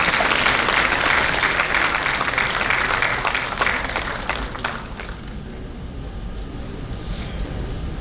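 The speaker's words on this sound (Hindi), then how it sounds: "साथियों, ताली के साथ उत्साहवर्धन करिए सुबनसिरी की पूरी टीम का।" Audience applause at NHPC's Raising Day function at the corporate office, a loud, dense burst of many hands clapping that gradually thins and fades toward the end.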